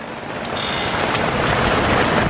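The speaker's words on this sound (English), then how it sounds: "Pouring the rain again." Heavy rain pouring down outside, a loud, steady broadband hiss that swells slightly over a couple of seconds, with no voices.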